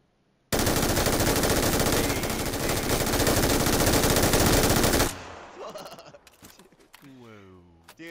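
Sustained, loud machine gun fire from an LMG in PUBG rattles continuously for several seconds, then cuts off, followed by quieter scattered sounds and a brief voice.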